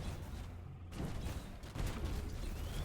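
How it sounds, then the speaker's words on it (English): Explosions in an action roguelite MMORPG battle, booming in a dense, continuous stream of blasts and rumbling impacts over nearly three seconds with no pauses. "Go ahead and get the explosions in there."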